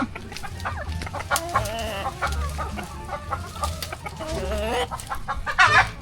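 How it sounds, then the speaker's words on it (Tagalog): Chickens clucking and murmuring close by, with repeated short calls and a brief louder squawk near the end, no talking. "Manok na pula."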